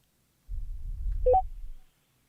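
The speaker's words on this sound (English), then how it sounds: "If there's anyone on the phone who wishes to speak, press star 3." Telephone keypad tones from a caller pressing star 3 to speak at a public hearing: two short, faint beeps over a low rumble of line noise, with no talk.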